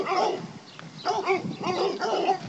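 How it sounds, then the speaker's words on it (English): A dog barks in repeated close, loud bursts, with short yelping bow-wows grouped in quick pairs and triplets separated by brief pauses. "Dog barking."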